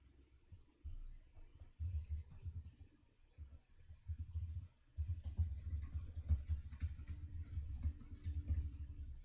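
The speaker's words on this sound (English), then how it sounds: "I'm typing really slowly today" Someone types slowly on a computer keyboard in short bursts of close, soft clicking separated by brief pauses, with faint mouse clicks and no speech.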